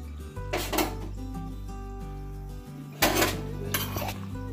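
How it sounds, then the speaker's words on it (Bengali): Store-bought boondi being stirred into thickened boiled milk in a pot for boondi payesh, with two bursts of metal spoon scraping and clinking against the pot over a low steady hum. "এবার এই বোঁদেটা আমি দুধের মধ্যে মিশিয়ে দেব।"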